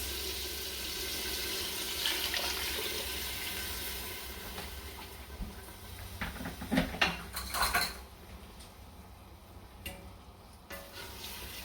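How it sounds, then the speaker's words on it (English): Water poured into a pot of rice for Lebanese rice, three cups' worth, gives a steady rushing splash, followed by a few clinks and knocks of pot and utensils near the end. "will put 3 cups of water"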